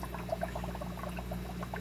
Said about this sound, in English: now I've turned up the flow on this little piece of line, airline tubing here, so that we have a little bit more of a steady stream coming down